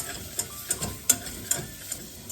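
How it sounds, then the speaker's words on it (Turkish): Tomato paste sautéing in a pan over lowered heat for basil tomato soup, with a soft sizzle under repeated scraping stirs of a utensil, several sharp clinks spaced about half a second apart. "Salçamızı da kavuruyoruz."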